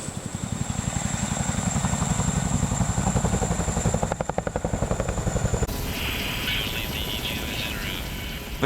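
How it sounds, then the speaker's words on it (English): A large twin-rotor Chinook military helicopter in flight gives a loud, close, continuous rotor thump with a droning engine whine, the pulsing shifting partway through as the sound changes. "Because the Chinook is an extremely large aircraft, it requires a crew of 4."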